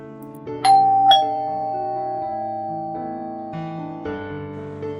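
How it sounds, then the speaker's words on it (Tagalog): A two-tone ding-dong doorbell rings once, bright and clear, in a Tagalog audio drama, its chime lingering over a soft sustained musical backing with no talking. "Nakarinig sila ng doorbell sa labas."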